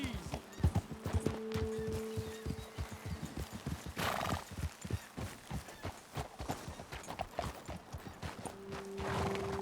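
Horses in the Red Dead Redemption 2 game clip-clop along at a steady trot, hooves close and crisp, with a sharp neigh midway and low talk woven through.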